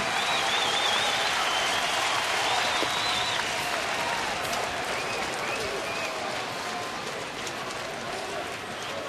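Baseball stadium crowd applauding on a June evening game, Seattle at Chicago, a dense, sustained wash of clapping and cheering that holds loud and slowly eases, with a faint voice beneath.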